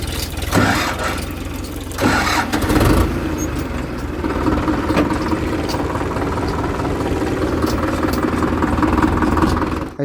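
A tractor engine cranks and catches with a few rough bursts, then settles into a loud, steady, rumbling idle close by.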